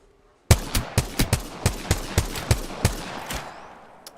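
Automatic gunfire in a video game firefight: a rapid, evenly spaced string of about a dozen loud, sharp shots starting abruptly, each with a short ringing tail, then fading out, no talk.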